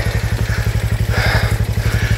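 A motorcycle engine labors uphill on a rough rural road with two people aboard, its low exhaust thumping in a fast, even rhythm, close and loud, with rattling over it.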